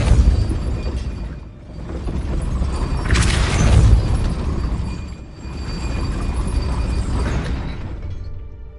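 Depulso spell effects in Hogwarts Legacy on PS5, loud rumbling blasts and crashing impacts rolling on in waves, with a sharper shattering burst midway, dense and continuous.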